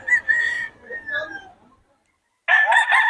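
A 2.5-year-old rooster crows twice, loud and close, in a Filipino yard in Bocaue: one long call, then a short pause of silence, and a second strong crow that cuts off at the end.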